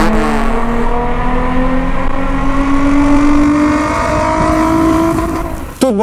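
A naturally aspirated car engine revs hard and close up, its pitch climbing steadily in one long, loud pull that cuts off abruptly near the end, with no talking over it.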